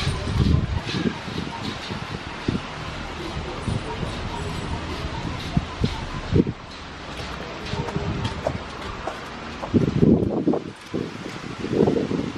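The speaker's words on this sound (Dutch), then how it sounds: "Maar ik zie nu echt dat het behoorlijk begint te waaien" Strong wind blows outdoors as a thunderstorm approaches, a steady rushing roar with rustling leaves and louder gusts, while people talk intermittently.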